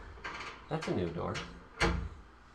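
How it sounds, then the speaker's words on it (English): A door opens in the horror adventure game Home, a short mechanical creak and clunk with a sharper thud near the end, heard near and fairly clear under quiet game ambience. "That's a new door."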